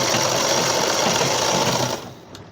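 A sewing machine runs steadily while stitching the folded neck strip of a handmade baby cap, a loud continuous whir lasting about two seconds before it stops abruptly, leaving faint room noise.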